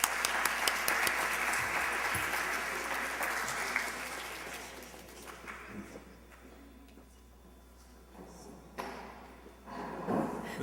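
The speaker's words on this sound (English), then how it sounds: "Give yourselves a round of applause." An audience at a youth productivity forum gives a loud round of applause that fades after about four seconds. Scattered claps, bumps and murmurs follow, then a brief burst of clapping returns near the end.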